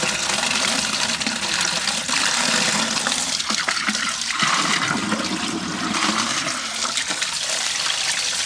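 Water gushes steadily through a just-unblocked household drain, a continuous loud rushing flow that stays strong throughout with slight surges, no voices over it.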